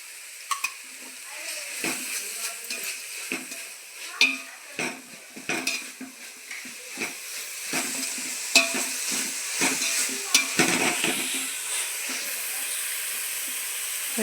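Red chili paste frying for chicken fried rice, with repeated spatula scrapes and clinks against the pan over a continuous sizzle, close and fairly busy.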